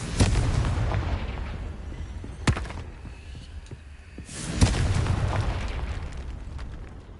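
Confringo blasting spells explode in the video game Hogwarts Legacy, two sharp, loud booms a couple of seconds apart, each followed by rumbling debris over continuous game noise.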